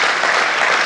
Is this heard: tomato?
no